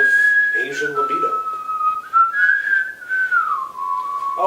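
A person whistles a meandering melodic tune, clear and close, with sliding pitch over several seconds and a brief voice murmuring beneath early on.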